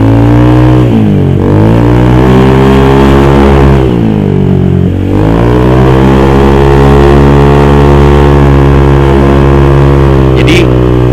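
Honda Vario 150 scooter fitted with a homemade exhaust built from a Vario KZR muffler, with a full baffle, revving loud and close with a steady droning tone that dips briefly twice and climbs again.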